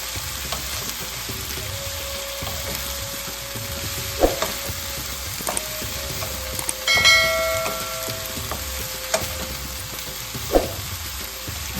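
Cauliflower and potato curry sizzling in a covered pan, with steady frying crackle throughout and a few sharp metallic clinks and scrapes from a stirring spoon against the pan.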